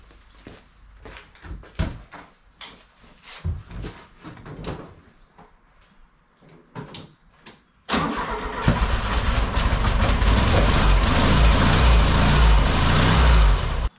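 A 1967 VW 1500cc air-cooled engine cranks and fires after scattered clunks and footsteps, then settles into a loud, steady idle that runs to the end.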